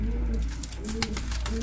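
Pigeons in a Kocaeli pigeon shop cooing in low, repeated throaty calls, fairly close but soft, over a steady background hum with a few sharp clicks from the room.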